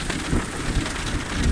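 Steady rain pouring down as a thunderstorm approaches on the plains at dusk, with low rumbling swells of distant thunder underneath the constant hiss, loud and close throughout.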